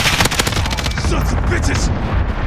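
Automatic gunfire rattles in a team deathmatch video game match, a rapid burst of sharp shots in the opening second followed by continued combat noise and faint voice-like sounds.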